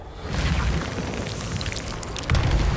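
Confringo blasting spell explosion in a wizarding video game, a loud rumbling blast with crackling debris and a second heavy burst near the end.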